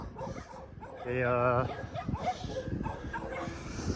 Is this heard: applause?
no